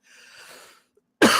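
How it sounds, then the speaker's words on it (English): A single sharp, close cough bursting out after a brief soft breathy exhale and a moment of silence. "That actually made me cough."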